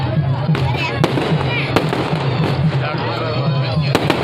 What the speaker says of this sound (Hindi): अभी ये पटाखे